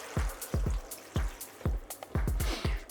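Water poured over gobo burdock root and dashi in a pot for tonjiru pork miso soup, heard as a series of close, splashy glugging drips and pours with an irregular rhythm.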